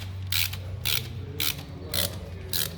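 A wrench ratchets in short bursts, five crisp clicking strokes evenly spaced, while tightening a bolt on an S&S high-performance oil pump fitted to a Harley Road Glide Special.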